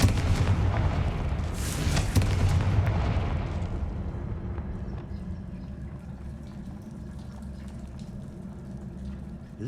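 Fire curse explosion in the video game Hogwarts Legacy, a loud booming blast with a bright crackling burst in the first few seconds, then a rumbling, fiery decay that lingers under steady ambient noise.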